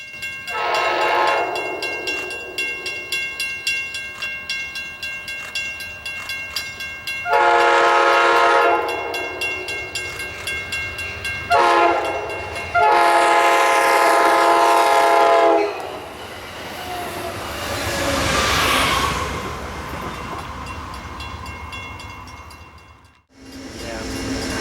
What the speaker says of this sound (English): we see Amtrak 474 blazing up to Windsor Locks for a station stop.